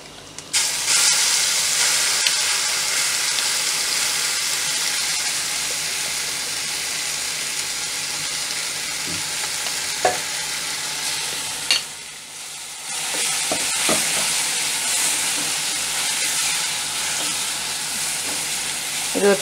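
Curry leaf chutney sautéing in a pan gives a steady, loud sizzle with stirring scrapes for most of the stretch, dipping into a brief quiet pause before the frying hiss resumes.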